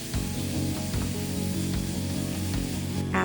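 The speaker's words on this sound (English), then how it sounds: "Now mixing all the sauces well in high flame for 1 or 2 minutes" Mixed sauces of tomato ketchup, red chili sauce and chili oil fry on a high flame, giving a steady, dense sizzle with faint scraping, close and continuous for a few seconds.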